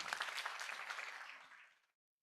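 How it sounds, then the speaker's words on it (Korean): Audience applause for a Korean film producer at a talk event: a dense wash of clapping from a seated crowd, steady at first and then tapering off to silence within about two seconds, somewhat faint and roomy. "박수 부탁드립니다"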